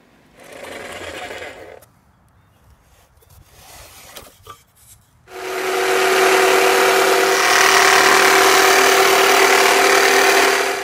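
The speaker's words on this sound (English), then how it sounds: "We'll do some sanding here just to clean everything up." Wood cabinet pieces for a Kadette Tele-matic AC Model 35 radio cabinet are sanded with a power sander, a short whir early on, then quiet handling noises, then a long loud continuous buzz filling the second half.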